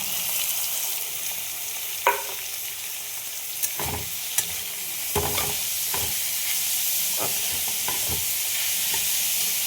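Mixed vegetables for paratha stuffing (potato, cauliflower, peas, capsicum, ginger, green chilli) fry in a pan with a steady broadband sizzle, broken by several scraping stirs and clatters, with no voices.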